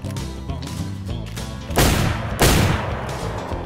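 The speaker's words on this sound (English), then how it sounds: "Calm down with the shotgun, bro." Shotgun blasts in the survival video game DayZ, loud booming shots with a sharp burst near two seconds and another heavy one just before two and a half, over a busy background.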